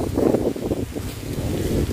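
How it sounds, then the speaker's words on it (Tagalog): Strong wind at a high, exposed spot buffets the microphone in a rough, low roar with gusty surges, loud and close throughout the short stretch. "grabe yung lakas ng hangin dito"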